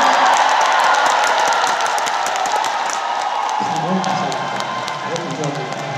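A concert audience at a trot show in a wellness center applauds and cheers loudly, sustained clapping with whoops. The sound thins toward the end as a voice begins speaking over it.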